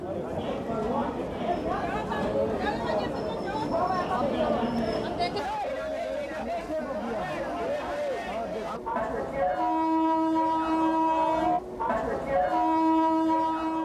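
A passenger train pulls into a busy Indian railway station amid dense crowd chatter, then sounds several loud, sustained horn blasts near the end.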